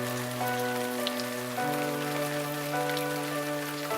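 Rain falls in Australia as a steady, soft hiss of drops on a surface. A constant droning tone sits underneath, and no one speaks.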